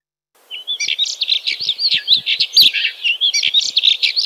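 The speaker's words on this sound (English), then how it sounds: "This bird, the alpine accentor" An alpine accentor, a hardy high-mountain bird, sings a continuous run of bright, warbling chirps and trills, close and clear against a quiet background, starting after a brief silence and carrying on without pause.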